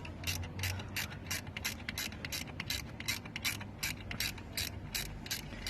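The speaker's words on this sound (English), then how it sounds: "These come in handy. Wobbly headed ratchets." A wobble-head ratchet turning a 10 mm bolt during water and power steering pump removal on a Land Rover Discovery 2 Td5, a quiet, regular run of sharp clicks close by, heard alone.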